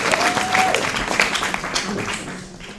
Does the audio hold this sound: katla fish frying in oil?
no